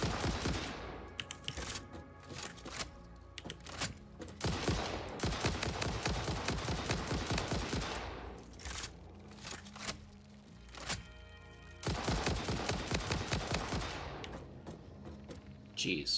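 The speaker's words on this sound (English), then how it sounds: "Stop shooting at me." Rapid bursts of gunfire fill the fight against persistent spawner bugs in the game Satisfactory, loud and sustained over much of the stretch with short pauses, mixed with other game sounds and occasional talk.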